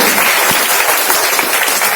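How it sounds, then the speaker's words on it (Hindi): Audience applause welcoming listeners at a Ganga Dashehara religious discourse, a dense, steady wash of clapping that holds at full strength for the whole two seconds, with no voices rising above it. "इसलिए हम आप सभी श्रोताओं का ताली बजा करके स्वागत करते हैं।"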